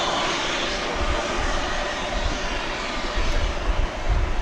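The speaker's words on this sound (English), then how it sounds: "coming in from Mexico City, flight 4800 and Airbus A321 Neo" An Airbus A321neo jet arriving at Dallas Fort Worth Airport from Mexico City, a steady, loud rumbling engine roar with broad low-end noise throughout, no talking.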